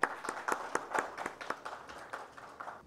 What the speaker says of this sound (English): request everyone to welcome and open the conference with a big round of applause